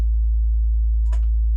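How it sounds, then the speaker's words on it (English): A pure, steady low sine tone at A0, around 55 Hz, hums loud and unbroken throughout, with a brief faint chirpy blip partway through. "a simple sine wave, in this case A0, approximately frequency 55-ish"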